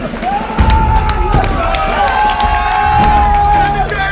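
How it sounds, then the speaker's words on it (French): Crowd at a food challenge contest cheering and shouting loudly and continuously, with an announcer's voice running over the noise throughout. "applaudissements pour le premier champion du ventre d'acier"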